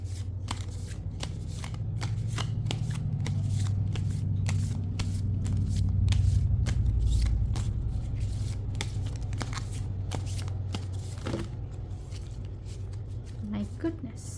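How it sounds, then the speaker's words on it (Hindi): Tarot cards shuffled by hand in a rapid series of crisp riffling flicks and snaps, close and continuous, with a low background hum underneath. "So let me shuffle some cards for you first."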